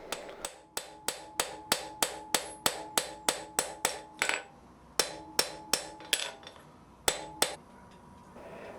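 Sharp metallic hammer blows rivet washers onto hand-forged steel dividers, landing in a quick regular series of ringing strikes, then pausing and resuming in a few separate bursts, close and clear with no talk.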